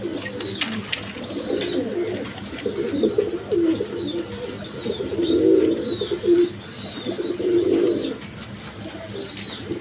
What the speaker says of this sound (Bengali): এখানে একটা কবুতর আছে দেখেন কোয়ালিটি সম্পন্ন কবুতর